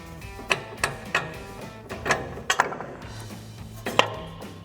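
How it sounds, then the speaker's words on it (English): Lower strut bolt being removed during a lift kit install on a Toyota 4Runner, with a series of sharp metallic clanks and taps from tools, irregularly spaced and close to the microphone. "Next we can remove our lower strut bolt."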